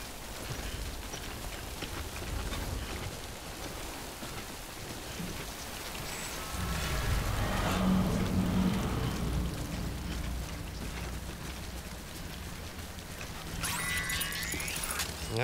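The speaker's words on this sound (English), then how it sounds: "Alright, so the rain has started." Steady rain falls in the video game Death Stranding, a constant wash of drops on surfaces throughout, with a faint low rumble midway and a few brief bright sounds near the end.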